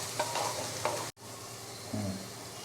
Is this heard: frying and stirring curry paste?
yes